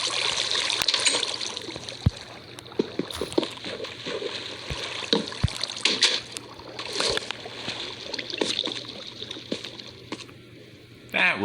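Flowing water column in Minecraft 1.16, a steady trickling, sloshing stream running throughout with a few sharp clicks from block placement, close and fairly even in level.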